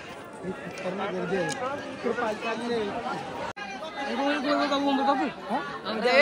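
Dense crowd chatter at the Ekvira palkhi procession, overlapping voices close by and steady, with someone nearby speaking amid the hubbub.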